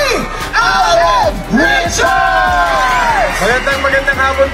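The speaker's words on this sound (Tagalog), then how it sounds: "Palakpakan natin kasamang hiyawan para kay Alden" A crowd at a live public appearance by Alden Richards whoops, yells and cheers loudly, with high rising shouts and excited voices filling the space close around.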